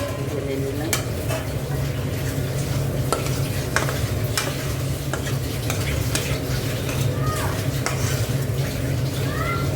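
Leftover meat reheats in a pan while a utensil stirs and scrapes steadily, with constant close sizzling and occasional clinks of metal against the pan.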